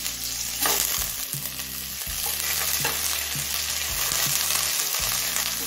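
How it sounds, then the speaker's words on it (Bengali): Cauliflower pieces fry and hiss in hot oil that was already used for potatoes and carrots, a steady close sizzle broken by stirring and scraping sounds, with no voice. "এবার এই একই তেলে ফুলকপিটা ভেজে নেব।"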